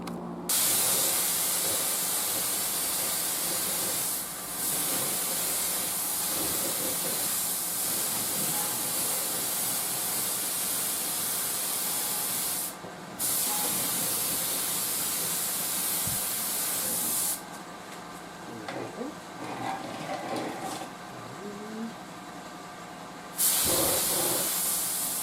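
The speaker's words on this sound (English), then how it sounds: "let's go spray the box" A spray can or spray gun hisses in long, steady bursts while painting a 1920s horn speaker amplifier box, with a few short pauses between passes and no talking.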